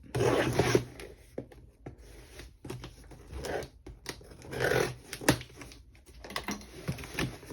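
Crinkly, scraping cuts and rustles come in short bursts, close up, as rubber-handled scissors cut open a cardboard box and packing tape, with no voices.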